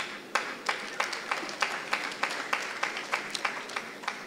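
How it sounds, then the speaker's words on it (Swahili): Audience clapping in unison for a guest, a rhythmic series of about a dozen sharp, evenly spaced claps over a softer bed of scattered applause. "tumpigie ndugu wetu makofi"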